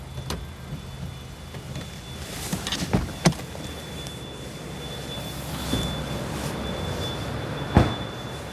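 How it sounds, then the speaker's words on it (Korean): Sunroof of a 2015 Honda Accord 2.4 sedan opening, a faint steady motor whine inside the cabin broken by a few soft clicks and thumps, quiet and with no talking. "마지막으로 썬루프도 열어봐야죠"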